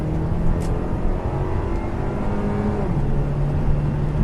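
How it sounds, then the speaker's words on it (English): A 2014 Buick Regal GS accelerates at full throttle in GS mode with a loud, continuous engine roar, pitch rising through gears with a brief shift dip, heard from inside the vehicle. "I'm going to floor it in GS mode"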